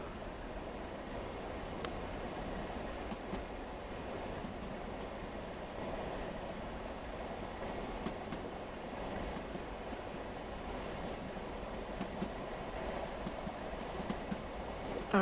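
A locomotive runs steadily in Train Sim World, a continuous low rumbling drone with occasional faint clicks and no voices.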